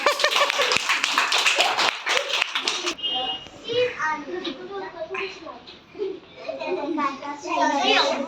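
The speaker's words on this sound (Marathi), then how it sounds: "चिकूसाठी टाळ्या वाजवा" Children's voices chatter at first at a school game session, then a burst of scattered clapping follows, mixed with excited kids talking and calling out.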